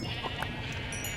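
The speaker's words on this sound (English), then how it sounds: "I'm calling my sheep a little bit." Sheep bleating in Minecraft, a short game bleat over a steady background hum.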